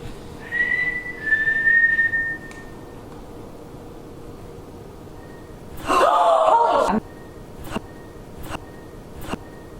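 A person whistles a sustained, wavering tone inside an old county jail, then after a pause a louder, breathy whistle with a gasping quality, followed by a few faint clicks.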